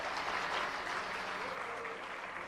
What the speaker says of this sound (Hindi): आइए जोरदार तालियों से सर का स्वागत करें।